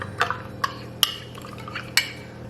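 A spoon stirring greens powder drink in a cup, a few sharp clinks against the sides spaced about half a second to a second apart over a soft liquid swirl, close and clear.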